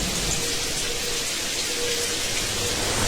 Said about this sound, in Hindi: बाहर बारिश शुरू हो गई थी।